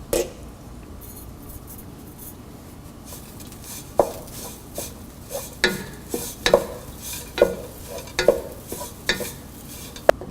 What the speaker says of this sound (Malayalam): ഇതിനെ കട്ടകളില്ലാതെ നന്നായിട്ട് ഇളക്കിയെടുക്കുക.